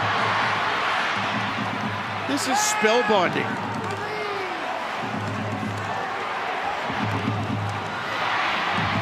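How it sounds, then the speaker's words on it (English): A rugby league stadium crowd at a premiership match roars in a constant, swelling wash, while a commentator speaks excitedly over it and a brief whistle-like tone cuts through early on. "Listen to the crowd."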